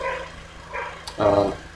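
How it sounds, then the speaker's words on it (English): A dog barks in the background: a few short muffled barks followed by a louder, growly bark near the end, heard alone without speech. "sorry for the dog barking in the background"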